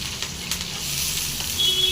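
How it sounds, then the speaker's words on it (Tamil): Onions fry in a pan with garlic and chillies, a moderate, even sizzle with light crackles and faint spatters that holds steady and rises slightly at the close. "வெங்காயம் நல்லா ஃப்ரை ஆகணுங்க."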